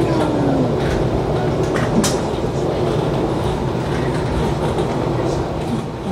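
A panoramic train with full-glass carriages rolls along in Indonesia, giving a steady loud rumble and rattle of the carriage from inside, with faint clicks and no clear talk.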